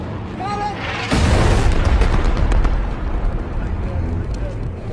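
A heavy bomb blast in a war movie hits with a sudden loud roar that fills the scene and rumbles on for several seconds, a voice calling out just before it.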